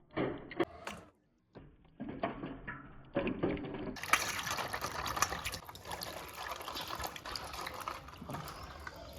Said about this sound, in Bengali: আমি এখন ধুচ্ছি